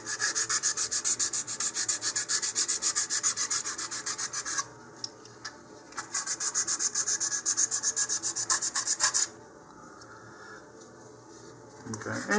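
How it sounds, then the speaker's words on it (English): Sandpaper scuffs a LOC Precision LOC1 Xeno model rocket body tube in fast, even back-and-forth strokes, a close rasping rub that runs steadily, stops briefly, resumes, then fades into quiet. "what you can do is just roughen up the whole thing."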